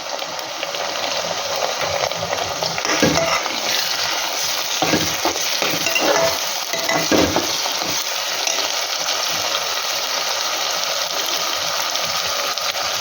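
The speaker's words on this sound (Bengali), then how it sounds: "এবার আমি আদা রসুনের পেস্ট দিচ্ছি" Ginger-garlic paste frying and being stirred in a pan for mutton kosa, a steady close sizzle with a few louder scraping stirs in the first half and no talking.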